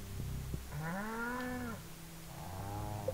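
A cow mooing in the farming game Stardew Valley, two drawn-out moos close by, the first long and rising, the second shorter, with no talk.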